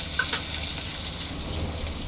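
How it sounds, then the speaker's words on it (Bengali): Green chilies and onion, added after garlic has browned, crackle and hiss in hot oil with a continuous close sizzle and a brief stir near the start. "কাঁচামরিচ আর পেঁয়াজটাকে একটু ভেজে নিব তেলে।"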